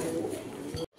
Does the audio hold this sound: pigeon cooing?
yes